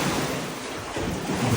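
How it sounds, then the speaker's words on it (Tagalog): Strong ocean waves surge and wash onto a beach in the Algarve, Portugal, a loud continuous roar of surf mixed with wind buffeting the microphone, with no voices. "Lakas ng alon."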